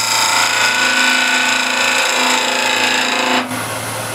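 A skew chisel cleans up the shoulder of a turned tenon on a spinning wood lathe, giving a loud, steady, whining scrape with a motor hum underneath that shifts and drops near the end, with no talk.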